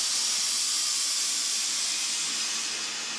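Steam injected into a bread baking oven running at about 500 degrees gives a steady, loud, continuous hiss that holds evenly throughout, with no talking.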